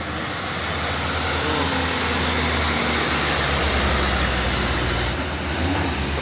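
A single-axle dump truck's diesel engine drones loudly and continuously on a hillside road, a deep steady rumble with no voices.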